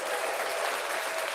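Audience applause fills the whole moment, a dense, steady wash of clapping from a crowd at a political talk show, with no gaps or pauses.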